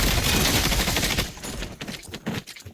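Rapid automatic gunfire from Call of Duty rattles in a dense, loud burst, then thins into scattered separate shots and trailing echoes.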